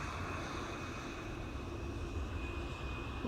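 Saudia Boeing Dreamliner arriving at Amsterdam Schiphol from Jeddah, a steady distant jet rumble with a faint high whine, continuous and even, with no voices.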